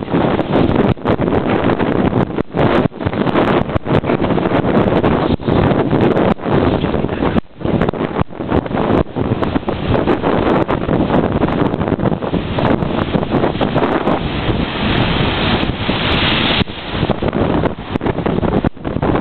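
Lake Michigan waves splash against the shore at Highland Park, Illinois, in cold weather, with a loud, continuous roar of surf and heavy wind buffeting the microphone, and no speech.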